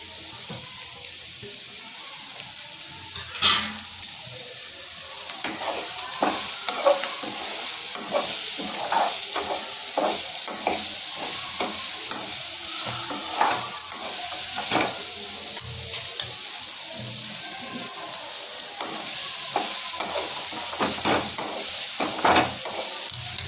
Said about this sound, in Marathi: आता आपण यात कांदा टाकायचा आहे.